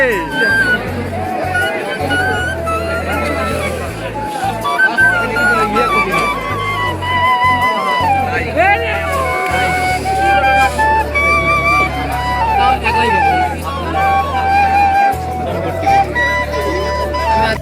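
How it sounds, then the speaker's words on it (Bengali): A dense crowd at the 400-year-old Dariyal fair (Nishan fair) in Bogura, with motorcycle stunt shows nearby, makes a steady, loud hubbub of many overlapping voices that continues without pause. "দেখুন মেলায় কীরকম পরিমাণ ভিড়"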